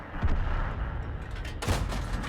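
AP rounds fired from a tank in World of Tanks, with loud booming shots at about 0.3 s and 1.7 s standing out over a dense, constant battle rumble.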